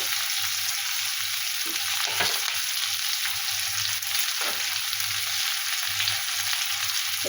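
Food frying in a pan for a Bengali cauliflower and egg curry, a steady close sizzle running unbroken throughout with occasional soft stirring scrapes and no talk.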